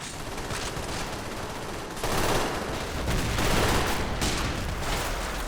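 MG34 machine gun fire in a realism-modded 1944 Baltic offensive war game, sustained loud rattling bursts with a short gap, dense and close amid wider battle noise.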